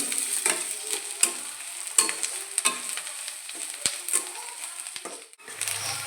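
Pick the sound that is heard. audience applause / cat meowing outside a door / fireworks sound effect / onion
onion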